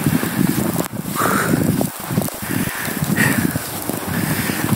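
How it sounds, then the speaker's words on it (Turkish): Wind blows through a snowy forest in Finland, a steady rushing roar with gusty swells and occasional microphone buffeting, close and fairly loud. "Rüzgarın sesini"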